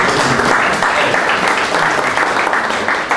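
Sustained applause from a crowd fills the room, dense and steady clapping at full volume throughout.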